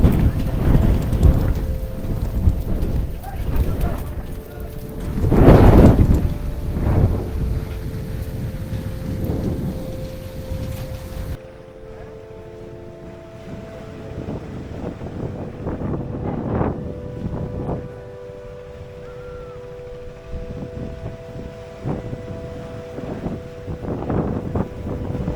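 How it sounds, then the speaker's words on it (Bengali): Strong wind gusting over a rough, choppy river at Chandpur ghat, a loud continuous roar with buffeting microphone blasts and a steady engine hum from a nearby boat. "শক্তিশালী বাতাসের প্রভাবে নদীর পানিতে বড় বড় ঢেউয়ের সৃষ্টি হয়েছে"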